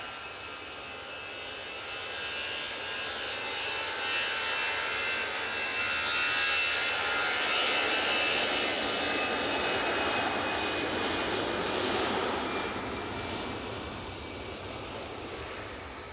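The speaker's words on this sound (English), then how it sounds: "A320 now on the roll." An easyJet Airbus A320 jet takes off at Manchester Airport, a loud, broad, steady roar that swells to a peak and then slowly fades, with no talking.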